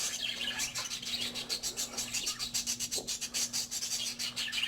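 Australian parakeets in an aviary chirp softly amid rhythmic rubbing and scratching noises and a steady background hum, fairly faint and continuous.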